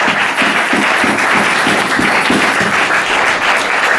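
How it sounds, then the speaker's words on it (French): A church congregation claps steadily together in rhythmic, loud applause that fills the room without pause. "On applaudit pour le Seigneur"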